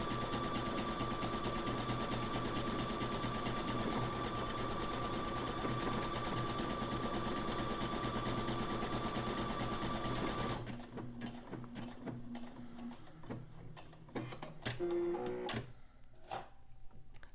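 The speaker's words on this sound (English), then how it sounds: "So I need to press my foot pedal and keep it down until the entire buttonhole is made." A sewing machine runs steadily while stitching a buttonhole, its needle whirring in a fast continuous rhythm for about ten seconds before stopping, followed by a few quieter mechanical clicks and handling sounds.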